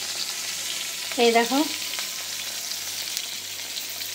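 Potatoes frying in hot oil give a steady, close sizzle throughout, with a short louder scrape of stirring near the middle and a brief spoken phrase.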